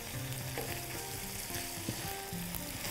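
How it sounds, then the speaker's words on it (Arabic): Meat browns in a hot pan with a dense, crackling sizzle, close and steady, with faint utensil clinks mixed in and no voices. "هنعصج اللحمه عادي."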